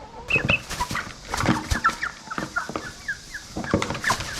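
Village chickens clucking nearby in a run of short, overlapping calls and squawks, fairly loud and close, with light rustling between them and no talk.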